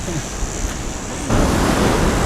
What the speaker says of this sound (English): We are now walking along the Red Rock Beach, and this is just a big long beach